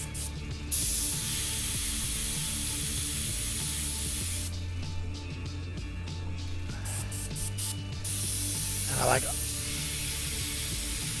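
Airbrush spraying paint onto a miniature model, a steady close airy hiss that cuts off and restarts in short bursts, with someone talking over it throughout.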